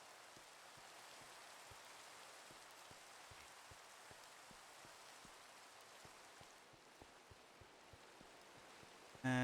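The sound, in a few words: rain falling outside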